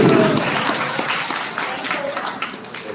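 An audience at a school chess awareness program in Ooty claps for a teacher, a dense, steady wash of applause that is loudest at the start and slowly thins across three seconds, with some voices mixed in.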